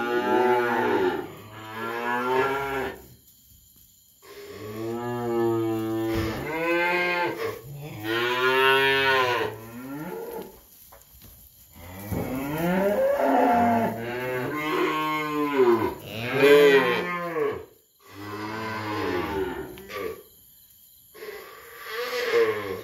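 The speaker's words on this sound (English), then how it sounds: "We got bulls and heifers." Weaning feeder calves, bulls and heifers, penned in a barn bawl again and again, with loud, drawn-out moos from several animals overlapping close by and only short pauses between calls.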